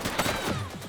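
Gunfire in the video game The Precinct, a short burst of rapid shots that is loud and close, with a ringing tail.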